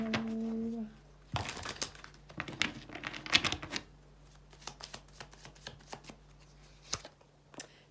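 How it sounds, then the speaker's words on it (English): Oracle card deck shuffled by hand, rapid riffling bursts and flicks of cards close up, then a single card snapped out and laid down, after a short hum and tone at the start. "let's get one oracle card for Leo"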